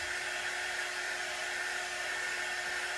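A small hair dryer blows air in a steady, continuous whir with a faint high whine, loud and close, holding level for the whole stretch with no talking.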